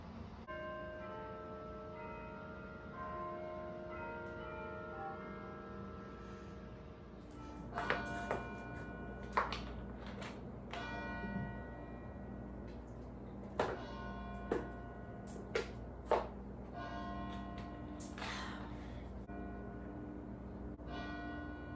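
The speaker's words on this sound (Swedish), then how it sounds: "Lyssna på kyrkklockor." Church bells ringing in New York, several bright strikes repeating over a steady hum of background noise, somewhat distant and moderate in level, with no talking.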